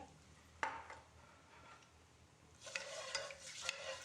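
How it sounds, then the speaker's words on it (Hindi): Soft sizzling and stirring of bay leaves in ghee in a pan, with a sharp clink of a utensil and crackling frying that grows livelier toward the end. "चंद सेकंड हमने इसको भी फ्राई करा।"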